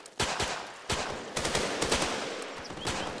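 Rapid bursts of nail rifle fire in the Running With Rifles video game, a string of sharp, loud repeated shots with irregular spacing and no talk over them.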